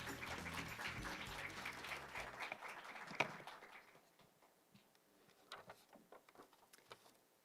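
Faint, distant applause welcomes a WTO speaker to the stage at a 2022 international digital trade conference. The clapping is fuller for the first few seconds, then thins to a few scattered claps in a quiet hall.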